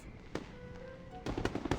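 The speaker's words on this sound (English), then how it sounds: "What's that sound? Fireworks? That's definitely fireworks." Fireworks popping and crackling in the video game Infinity Nikki, a faint single burst early on, then a denser run of sharp bangs near the end over a soft game music backdrop.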